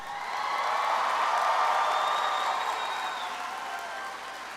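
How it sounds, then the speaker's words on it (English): Audience at the Wunsche Sr High School 2025 graduation ceremony breaks into sustained applause, with scattered cheers and whoops mixed in. The clapping swells to a dense, steady roar, then eases slightly toward the end. "Let's give them a big round of applause."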